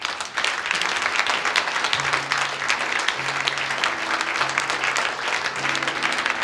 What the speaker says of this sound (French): On va applaudir Jésus.